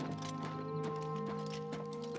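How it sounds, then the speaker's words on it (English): Horse hooves in the Oblivion Remastered game on the road to Kvatch clop in a quick, even rhythm at close range under a steady tonal music drone, with no talk. "I heard my horse there"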